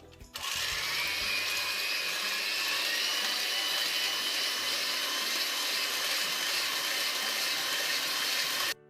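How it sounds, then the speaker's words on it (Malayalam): An electric egg beater whips egg whites for a pineapple cake, starting with a click and then holding a loud, steady high-pitched whine for about eight seconds before stopping; no speech. "ഞാനിപ്പോൾ എഗ് ബീറ്ററാണ് എടുത്തിട്ടുള്ളത്. ഇത് നന്നായിട്ടൊന്ന് നമുക്കൊന്ന് ബീറ്റ് ചെയ്തെടുക്കാം."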